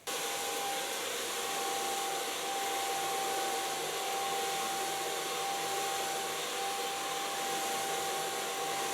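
A hair dryer blows on fine hair during a colouring session, making a continuous, even whooshing drone that stays close and steady for the whole stretch, with no voices.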